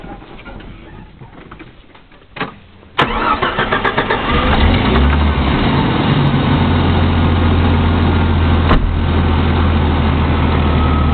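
A few rustles and clicks, then a truck engine cranks and catches, settling into a steady, loud, rumbling idle that runs to the end.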